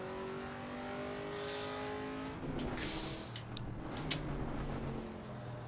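A Chevrolet Camaro with no brakes driving in the racing game Assetto Corsa EVO, its engine note droning and shifting pitch as it accelerates, with a brief tire squeal and a sharp knock near the end.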